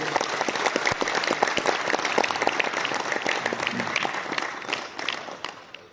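An audience at an RCM gathering claps for themselves, a lively, crisp round of applause with many individual claps, steady for several seconds before tapering off at the end.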